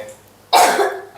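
An elderly man gives a single harsh, close cough that fades within a second after a short quiet lead-in.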